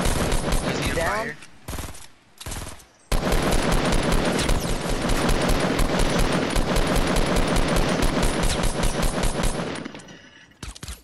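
Rapid automatic gunfire in the video game Fortnite goes off in a few short bursts, then breaks into a long, loud, continuous stream of shots that fades out near the end.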